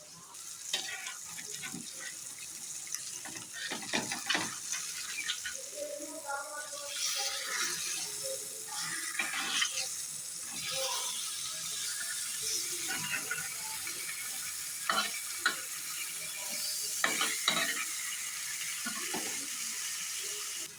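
Small hilsa fish fry in oil with a watery, crackling sizzle. Scattered clinks and scrapes of a utensil against the pan come and go.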